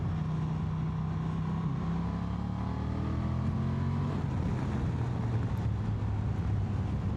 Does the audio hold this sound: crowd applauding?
no